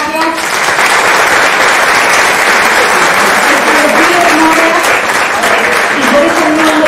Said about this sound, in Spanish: Les pido un fuerte aplauso a las chicas por alentarnos.